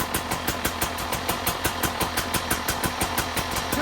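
A 2025 KTM 300 XC-W two-stroke dirt bike engine, fitted with an OXA pipe silencer, idles steadily nearby, its rapid even pulsing putter continuing without pause.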